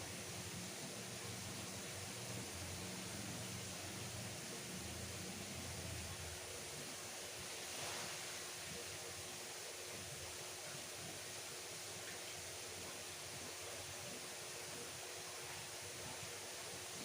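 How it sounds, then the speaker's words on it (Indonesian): Steady, even rush of water draining from a goldfish quarantine tank, a constant hiss-like flow throughout with no pauses, fairly quiet and alone without talk. "Sebentar, saya buang dulu airnya."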